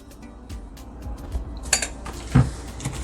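Skin scrub ingredients being stirred together in a bowl make soft scraping with light clinks of a utensil against the bowl, close by and fairly quiet, with no talking.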